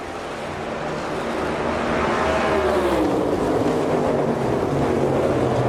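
NASCAR race cars at Indianapolis roar past in a steady, loud engine drone with a rising and falling pitch sweep as a car passes, amid wind-buffeted trackside noise, with no distinct crash impact standing out.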